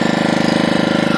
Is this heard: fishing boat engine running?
yes